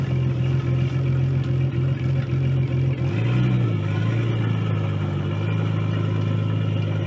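Nissan 240SX S13 with an RB20DET engine swap and welded diff driving down a road, its engine droning steadily and loudly throughout, with a brief rise in revs partway through and no talking.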